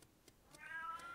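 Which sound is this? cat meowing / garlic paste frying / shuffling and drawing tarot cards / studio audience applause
cat meowing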